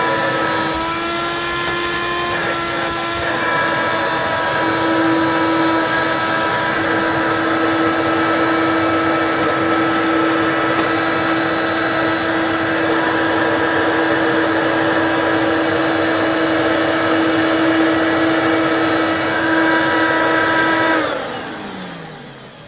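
A refurbished Hoover Turbomaster U5094 vacuum cleaner with new motor bearings runs in hose tools mode, giving a loud, steady whine with a humming drone throughout, then cutting off abruptly near the end.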